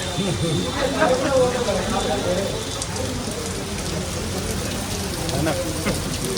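Steady heavy rain pours down on a gathering of Telangana activists in Hyderabad, a dense continuous patter on surfaces, with faint voices blended into the downpour.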